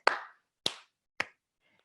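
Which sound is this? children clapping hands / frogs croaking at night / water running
children clapping hands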